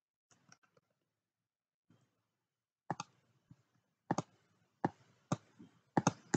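Several sharp computer mouse clicks in software, isolated taps early then clusters of louder clicks spaced about a second apart, close and clear with no talking.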